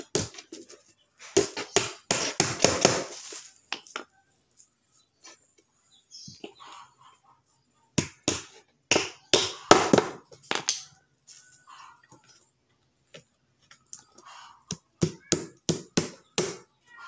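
Small nails hammered into a jamang headdress, sharp tapping strikes in quick clustered bursts separated by silent pauses, close and fairly loud with no talk over them.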